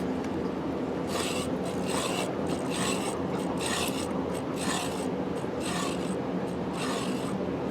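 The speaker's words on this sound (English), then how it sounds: "See if you guys can hear the scraping." An installed, unpowered ceiling fan gives a rasping, scraping noise in repeated bursts over a constant background hum, close and clear.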